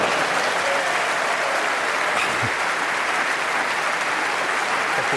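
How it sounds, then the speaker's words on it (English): Steady, loud applause from a snooker audience at the Masters fills the whole stretch without a break. "big round of applause for some naughty snooker from Kyren this time."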